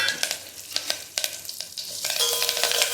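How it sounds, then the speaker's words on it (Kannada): Mustard seeds, cumin, curry leaves and chili tempering in hot oil for a Mangalore cucumber sambar, a steady bright sizzle with crackling pops and spits, close and loud with no talk. "ಎಲ್ಲ ಹಾಕಿ ಒಗ್ಗರಣೆ ಕೊಡಿ."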